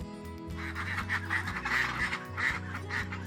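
Ducks on a farm in an agricultural region of China, a dense chorus of loud, overlapping quacks running continuously without pause and close by.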